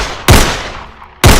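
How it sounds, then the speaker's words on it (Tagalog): Gunshots in a crime story, two sharp, loud, close reports about a second apart, each with a booming decay ringing off between them. "Tatlong putok ang umalingaw-ngaw sa may kanto"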